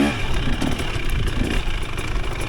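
A 2023 KTM 300 XC TBI dirt bike engine runs steadily on a trail, a continuous close, loud mechanical drone with a low rumble and no voices.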